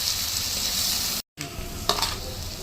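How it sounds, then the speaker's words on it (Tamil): Crushed shallots sauté in a pan for seeraga samba chicken biryani, a loud steady sizzle that cuts out briefly, then resumes with a couple of scraping stirs. "சின்ன வெங்காயம் தட்டி வச்சது, போட்டு நல்லா வதங்கட்டும்"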